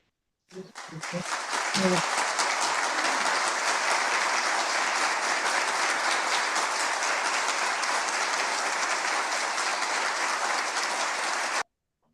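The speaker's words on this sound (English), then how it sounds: "give a round of applause for 30 seconds" Sustained crowd applause at a Tamil community youth programme in Europe, a dense steady patter of many hands clapping for about ten seconds after a few scattered early claps, then cutting off abruptly.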